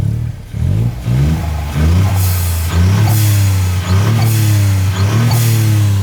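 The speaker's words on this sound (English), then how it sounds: "Just have a listen to this blow-off valve sound." A modified, salvaged, twice-crashed hot hatch engine revs repeatedly, each rising rev ending in a sharp hissing whoosh of a turbo blow-off valve, several times in a row.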